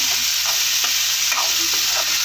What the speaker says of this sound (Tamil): தக்காளி நல்லா வதக்கிடலாம்